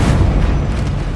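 A Bombarda blasting spell exploding in Hogwarts Legacy during a final battle, a loud, close, booming burst with a deep rumble filling the whole moment.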